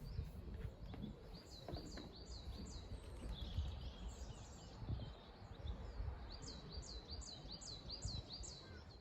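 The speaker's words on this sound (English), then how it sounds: "listen to the birds chirping" Several small birds chirp and tweet in repeated bursts through a quiet morning outside a holiday balcony, their calls fairly close over a low background rumble, with no one speaking.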